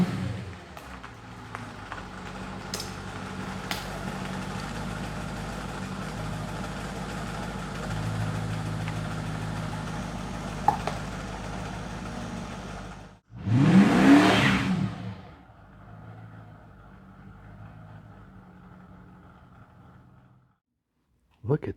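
A chopped-up Mercedes SL500 with its V8 idling in a low, steady rumble, then a brief rev and the car pulling away, engine fading to a quieter hum before a short burst at the end.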